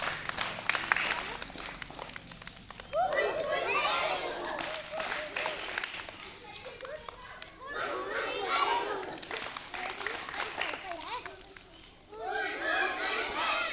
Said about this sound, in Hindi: शिक्षा मंत्री के लिए वेरी गुड ताली प्रारंभ